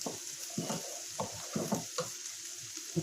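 Bacon and eggs fry in a pan with a constant soft sizzle, broken by repeated stirring and scraping sounds at an irregular rhythm, close and moderately quiet, with no talk.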